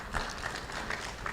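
Brief audience clapping at a conference of African parliamentary budget offices, a steady patter of many hands filling the moment at moderate volume.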